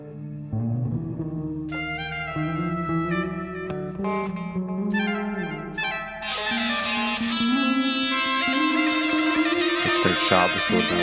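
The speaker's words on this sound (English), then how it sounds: "Sharp distortion elements there." Dense, strange-sounding instrumental music with sharp, gritty distorted tones and bright processed effects layered over sustained notes, loud throughout.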